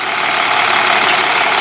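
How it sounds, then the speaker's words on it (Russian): A Kirovets K-744R2 tractor's rebuilt engine runs in a field, giving a loud, steady, dense roar at close range with no pauses or voices. "В общем, двигатель работает замечательно."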